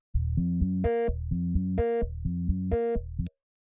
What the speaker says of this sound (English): The next thing that we've got here is this little bass sound